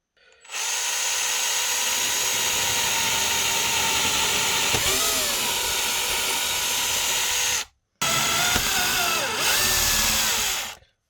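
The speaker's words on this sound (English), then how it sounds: "I'm going to start with a 1/8 drill bit." A power drill with a 1/8-inch bit whines steadily at close range for several seconds, stops briefly, then runs again, with pitch dipping as the bit bites.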